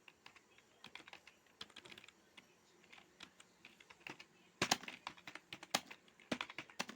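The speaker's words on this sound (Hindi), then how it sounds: "यहाँ पर थोड़ा सा मैं आपको टाइप करके दिखा देता हूँ, इस प्रकार से टाइप करेंगे" Light, rapid taps sound as someone types on a mobile phone keyboard, a steady irregular patter of soft clicks that grows denser and louder in the second half, close up and quiet, with no speech.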